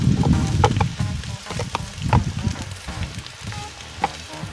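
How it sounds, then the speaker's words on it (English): Onions and mushrooms sauté on a hot PK grill, giving a soft sizzle with scattered pops and scraping clinks. A low voice talks over it. "So it's hot enough now for me to get these onions. And I've also got some mushroom. We're gonna get on here and saute."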